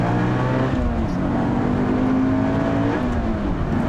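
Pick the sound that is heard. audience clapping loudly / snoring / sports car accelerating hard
sports car accelerating hard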